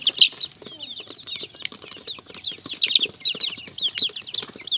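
Month-old chicks peep in high, rapid chirps alongside soft hen clucks and scuffling, fairly close and continuous.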